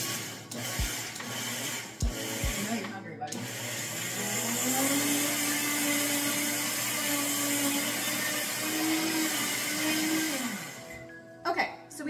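Rolled oats ground into flour in a countertop blender for gluten-free zucchini muffins: a few short pulses, then a loud, steady whirring grind for about eight seconds that winds down and stops.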